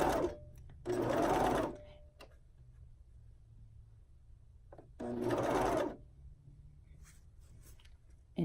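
A serger stitching elastic onto a swimsuit bottom with its knife engaged to trim the edge, two close, fast whirring bursts of about a second each, separated by quiet pauses with faint handling noises.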